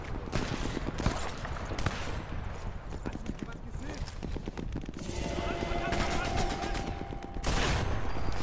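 Gunfire in Sniper Elite 4 cracks out as a run of sharp, loud shots with rapid bursts over game noise and clattering, while someone talks excitedly throughout.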